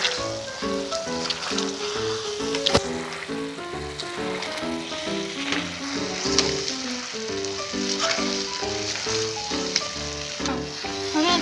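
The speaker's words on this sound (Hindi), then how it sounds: "देखिए सब्जी पक चुकी है, अब हम उसे मैश करेंगे।" Cooked vegetables for pav bhaji are mashed in a hot pan with green chilli and pav bhaji masala, a steady sizzle with a repeated squelching, thumping rhythm of the masher throughout, close and fairly loud.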